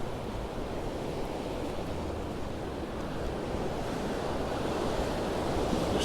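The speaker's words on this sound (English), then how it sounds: "there are quite big rollers coming in" Big sea rollers break and wash onto the beach at San Telmo, Mallorca, a continuous broad roar of surf with some wind buffeting the microphone, steady and building slightly louder toward the end.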